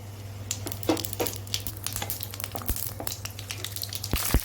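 Whole spices crackle in a small amount of hot oil and ghee with steady, close sizzling and sharp popping.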